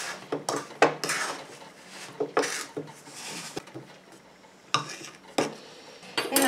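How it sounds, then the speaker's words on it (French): A utensil stirs and scrapes thick bath bomb paste around a bowl, giving irregular clinks and rubbing strokes with quieter gaps between them and no talk. "Donc je mélange bien pour qu'il n'y ait plus de poudre sur les bords, que tout soit bien pris dans la pâte"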